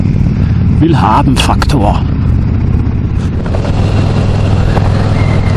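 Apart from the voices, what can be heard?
Harley-Davidson Road King Special motorcycle riding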